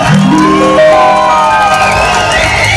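A crowd at a village temple festival comedy show in Tamil Nadu cheers and whoops loudly, with high shouts and rising calls over a steady background roar and some clapping mixed in, all close and continuous.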